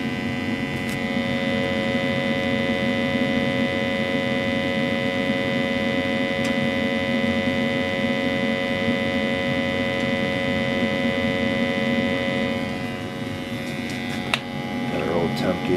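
An old Basmor oil boiler, about 50 years old and freshly vacuumed out, runs with a steady loud burner roar and hum that holds throughout, then shifts near the end as a few clanks and a voice are heard.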